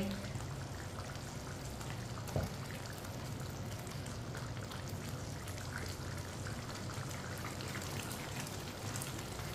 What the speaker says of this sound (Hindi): अब इसे 2 मिनट के लिए दोबारा चम्मच चलाते हुए पका लेंगे